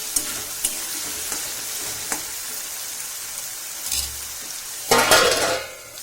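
Dum aloo potato curry sizzles steadily in hot oil in a pan, with faint spoon scrapes and a louder burst of stirring near the end.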